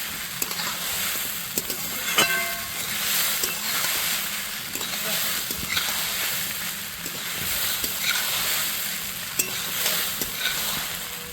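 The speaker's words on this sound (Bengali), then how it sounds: "দু একবার নাড়াচাড়া করেই নামিয়ে দেব সাবুর পোলাও" Sabudana pulao with potatoes is turned in a hot pan, a continuous gentle sizzle with rhythmic spatula scrapes and occasional sharp taps, close and steady, no speech.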